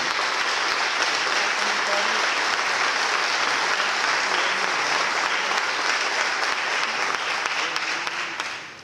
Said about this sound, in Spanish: Les rogaríamos un aplauso para don Ricardo.